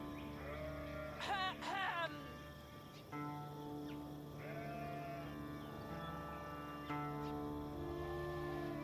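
Sheep bleating in the real-time strategy game Age of Empires IV, a couple of short bleats over steady game ambience and music, with a voice talking throughout.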